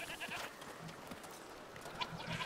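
Goats bleat in a farm area in the video game A Plague Tale: Requiem, a few faint, wavering bleats over quiet ambient background.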